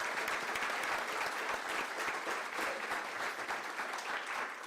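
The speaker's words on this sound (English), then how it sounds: "Let's give them all a round of applause." Sustained clapping from an audience at a mayoral debate in Edmond, Oklahoma, an even, moderately loud patter of many hands with no speech over it.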